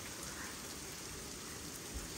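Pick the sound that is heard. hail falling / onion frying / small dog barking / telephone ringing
hail falling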